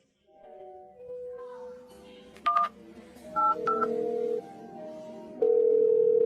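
Telephone keypad dialing tones, a quick run of short beeps followed by steady held tones, clear and close in a quiet setting.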